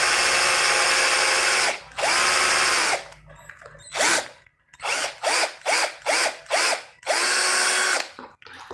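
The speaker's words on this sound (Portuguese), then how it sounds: "Vamos furar aqui só pra botar o parafuso" A power drill boring a hole for a screw in a boot heel, close and loud, with long whirring runs at the start and end and a quick series of short bursts between them.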